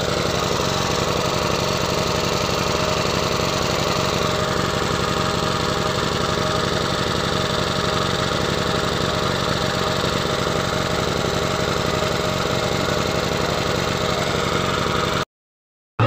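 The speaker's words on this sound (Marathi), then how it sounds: "जनरेटर मध्ये पेट्रोल भरायचं आता" A petrol generator engine running steadily, a loud continuous mechanical drone with a constant rhythm, close by and without speech, ending abruptly.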